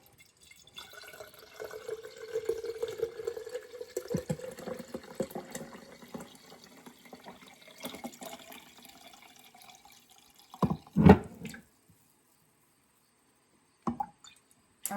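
Homemade beef bone broth is poured into a fat separator, a soft continuous liquid pour and trickle that tapers off, followed by a couple of sharp splashy knocks and a final drip.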